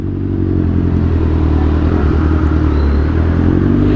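A motorcycle rumbles steadily through a quiet town near Santa Cruz, Infanta, its engine loud and close, holding an even drone with faint clatter.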